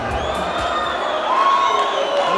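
A boxing arena crowd roars steadily as a popular fighter is introduced, a dense wash of cheering and shouting that swells slightly toward the end, with a few whoops rising out of it.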